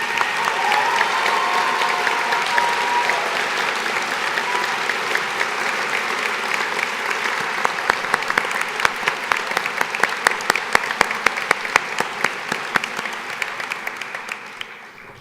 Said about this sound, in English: Please acknowledge them with your applause.